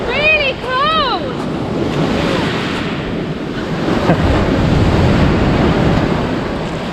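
Sea waves wash up on a cold beach near Fethiye, Turkey, as a steady loud roar of surf mixed with gusty wind noise on the microphone. Seagulls cry briefly near the start.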